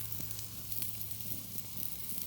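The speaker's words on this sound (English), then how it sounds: "Listen to the sizzle." A Tomahawk steak sizzles on the grill, a steady hissing crackle with small pops throughout, fairly quiet and close, with a low hum beneath it.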